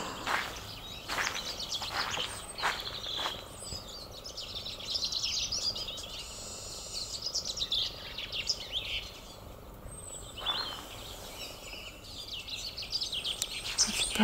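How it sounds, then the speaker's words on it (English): Several birds sing and chirp through a spring day outdoors, bright repeated calls and trills at moderate distance, with a few sharper nearby chirps and a steady soft ambient background, no talking. "But then you hear the bird song and you realise, of course it hasn't come back."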